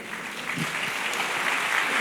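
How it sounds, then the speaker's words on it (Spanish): A church congregation claps steadily, a brief burst of applause sustained evenly from start to finish. "Dale un fuerte aplauso al Señor"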